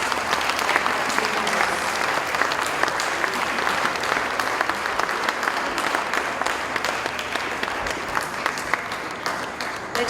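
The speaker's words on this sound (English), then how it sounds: "give a big round of applause" Sustained, full applause from a large audience at a girls' school Founders Day celebration, continuous and even for the whole stretch with no speech over it.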